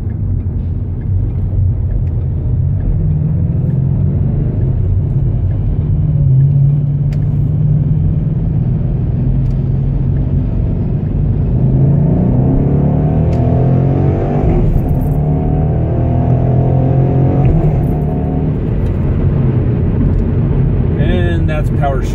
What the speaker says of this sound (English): And that's power shifting.